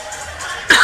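One abrupt, loud cough breaks in close to the microphone at the end, after a low background murmur of a crowd at a volleyball match.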